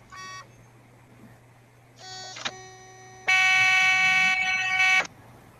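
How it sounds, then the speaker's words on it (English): Electronic beeping and buzzing tones likened to an old dot matrix printer, coming in separate bursts: a short one, then a longer one, then a loud, sustained, harmonic-rich buzz that stops sharply, over a low steady hum. "It sounds like an old dot matrix printer."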